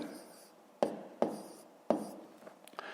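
Pen marks on paper during a fifth-grade maths exercise: three sharp taps or strokes, then lighter scratching, close and quiet.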